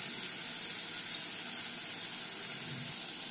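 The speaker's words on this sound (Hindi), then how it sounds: "अब इसको मैं थोड़ा देर के लिए भून लूँगी।" Tomatoes and onions fry in a pan with salt and turmeric, giving a steady, close hiss of sizzling with no pauses and no talk.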